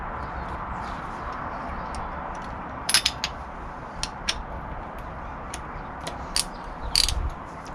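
Socket ratchet undoing spark plugs on an Austin Allegro engine, with irregular clicks and clinks over a steady background hum, a few sharper clicks standing out near the end.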